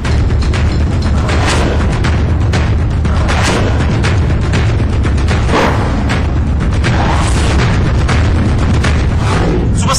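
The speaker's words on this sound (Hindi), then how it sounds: "पीछे लगातार धमाके जो हैं वो हो रहे हैं पाकिस्तान की तरफ से" Continuous heavy booms of cross-border artillery shelling in the Nowshera sector, loud and relentless with overlapping blasts and rolling rumble filling the whole stretch.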